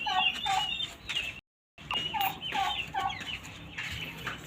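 Turkeys gobbling and clucking repeatedly, fairly close, with a short silent gap partway through and a busy mix of other poultry calls.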